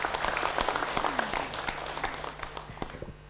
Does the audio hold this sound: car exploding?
no